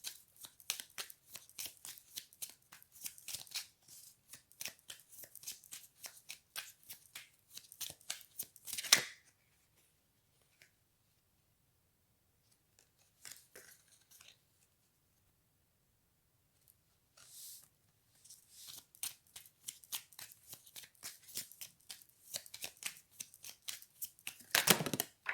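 A deck of tarot cards is shuffled up close in quick bursts of papery riffling and flicking, with pauses between runs and quiet stretches in the middle.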